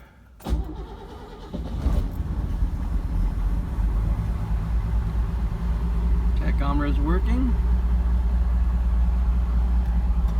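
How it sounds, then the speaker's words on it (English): A Mercedes 230SL engine starts with a loud crank, then settles into a steady, rumbling idle that runs on. Someone speaks briefly over it. "So now we're going to start the car."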